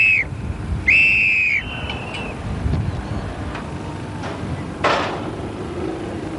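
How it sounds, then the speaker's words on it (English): A referee's whistle sounds one sharp, loud blast at a Beetle Bash event in 1992, with a shorter faint blast just before it, over steady outdoor wind noise. "You're listening to the 3rd blast of the whistle."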